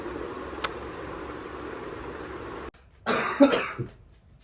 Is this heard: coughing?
yes